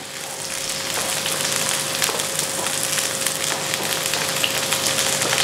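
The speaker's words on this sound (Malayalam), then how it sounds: "നമുക്ക് കൈക്ക് ഇങ്ങനെ തിരുമ്മി കൊടുത്താൽ പെട്ടെന്ന് പൊടിഞ്ഞു കിട്ടുന്നതാണ്" Fried dried chillies are crushed by hand, giving a close, steady crackle of brittle snapping and rustling over a faint steady hum.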